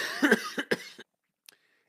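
Four or five harsh coughs burst close by in a quick fit, followed after a pause by one faint, brief sound.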